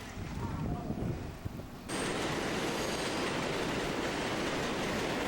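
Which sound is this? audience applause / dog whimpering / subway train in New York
subway train in New York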